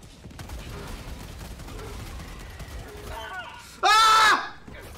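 Rapid gunfire from a video game in which bugs are shot, rising to a loud, dense burst of shots near the end, with a voice talking over parts of it.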